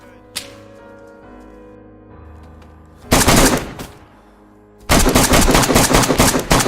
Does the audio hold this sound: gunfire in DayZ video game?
yes